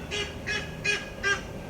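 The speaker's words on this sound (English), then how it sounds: "those are the ducks in the morning" Ducks quacking in the morning in a garden, four evenly spaced loud nasal honks in a steady rhythm over quiet outdoor background.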